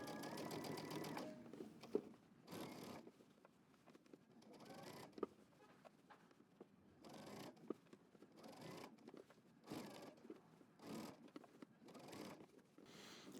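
A sewing machine stitching a jeans jacket in short bursts of rapid whirring, separated by quiet pauses as the fabric is repositioned, close and fairly soft.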